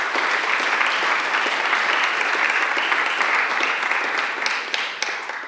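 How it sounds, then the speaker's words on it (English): Sustained audience applause at a pro bono service award reception, dense steady clapping from a sizable crowd throughout, fairly loud and even with no talk over it. "I'm going to give a great deal of recognition and applause to John DePippa"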